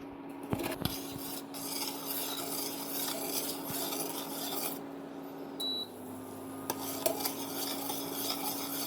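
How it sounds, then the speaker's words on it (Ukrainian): A spoon stirs sugar into pumpkin porridge in a pot, repeated scraping and rubbing strokes against the pot with occasional small clinks, close and fairly quiet. "І при цьому помішуємо. Помішуємо, щоб цукор не прокристалізувався."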